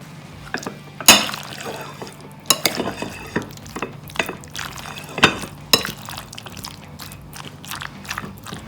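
Egg and chopped tomatoes being stirred and tossed into a cold French-style pasta salad in a bowl, with irregular soft clinks and wet mixing squelches close by, alone without talk.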